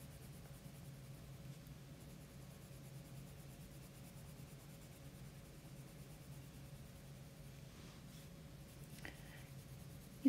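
Coloured pencil burnishing over paper in a Christmas colouring book: a quiet, steady scratchy rubbing that runs unbroken and soft throughout, with no talk.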